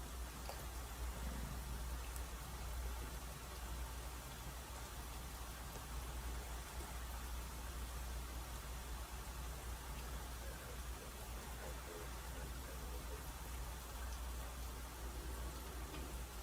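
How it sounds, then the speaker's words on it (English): Rain falls as a steady, dense hiss with a low rumble beneath it, unbroken and even throughout with no voices. "Yeah, it's raining."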